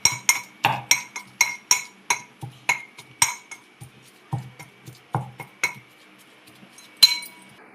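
Stuffed brinjals are set into a pan one after another, each with a sharp metallic clink or clatter of utensil against metal, in a quick irregular series of about fifteen close, crisp knocks.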